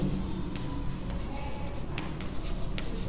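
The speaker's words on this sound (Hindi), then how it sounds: "मैं यहां पे लिखता हूं" Pen or chalk writing out a median class calculation during a statistics lesson, soft scratchy strokes with a few faint taps, quiet and close over room noise.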